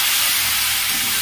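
Ginger-garlic paste sizzles in hot oil, giving a bright, dense, continuous frying hiss heard up close with no talking.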